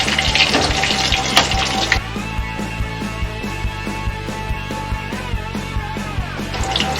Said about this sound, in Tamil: கருவேப்பிலை போட்டு நல்லா ஒரு பெரட்டுறோம்.